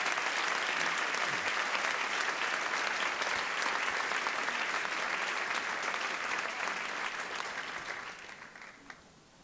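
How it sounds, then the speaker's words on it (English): An audience at a school district opening convocation applauds, with a dense, sustained clapping that holds steady and then tapers off and fades out near the end. "Let's have another round of applause for them"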